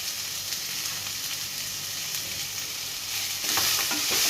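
Onions sautéing with salt in a pan make a steady close sizzle, swelling slightly louder with stirring toward the end.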